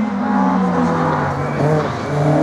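A race car on the Slalom de Lessay 2024 course roars loud and close, its engine note holding high and rising in pitch as it accelerates through the run.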